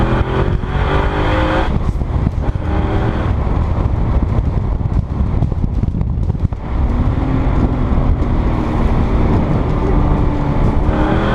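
A 2000 Ford Mustang Cobra R with side exhaust right beneath the window, heard from inside as a loud, continuous engine drone with revving swells and a brief dip midway, close and unbroken, no voices.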